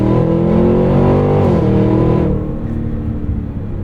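Muted engine and exhaust of a 2025 Cadillac Escalade V while driving, a steady low hum with a subtle rising then settling tone, heard from inside the cabin without talk.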